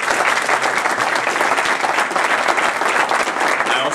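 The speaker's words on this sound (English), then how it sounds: "Let's give them a round of applause." Dense, steady applause from an audience at a public event with congressmen, many hands clapping at close range for the full four seconds.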